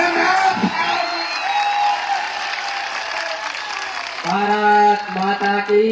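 An audience clapping and cheering at a gathering, a dense sustained wash of applause with a few whoops, with voices talking over it throughout.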